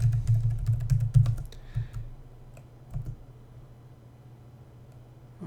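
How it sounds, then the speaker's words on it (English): A password is typed on a computer keyboard during a Linux command-line session: a quick burst of crisp key clicks, then a few scattered taps and a final keystroke against a low, steady hum. "I typed the password wrong."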